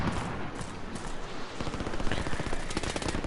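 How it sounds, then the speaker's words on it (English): Rapid, dense bursts of gunfire in Call of Duty: Modern Warfare online play crackle continuously, machine-gun-like volleys overlapping with heavier shots, loud and close with no pauses. "I hear gunfire in my ear already."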